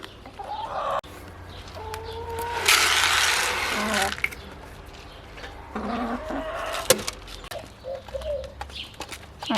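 Chickens cluck and murmur close by in a garden, feeding under a table, with a burst of scratchy, rustling noise partway through and scattered soft clucks around it.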